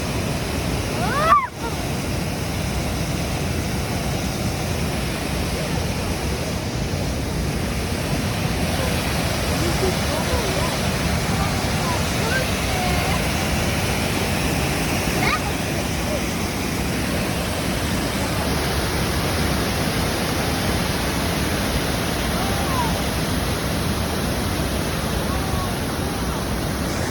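Water from a waterfall and river at Devil's Backbone County Park in Maryland rushes in a steady, broadband roar close by, with a brief knock early on.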